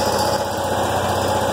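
A John Deere 212 garden tractor engine idles without choke, a steady, fairly loud, even drone with no change in pace.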